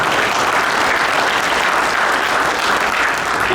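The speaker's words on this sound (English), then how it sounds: "let's give a nice round of applause" Sustained, dense applause from an audience at a 2025 town inauguration ceremony in Derby after officials are sworn in, loud and steady throughout without speech.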